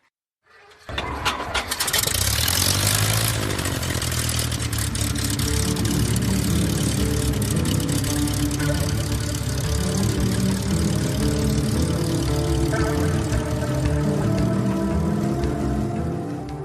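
A propeller airplane engine cranks and catches after a short silence, then settles into a loud, steady, rumbling idle close up that continues to the end.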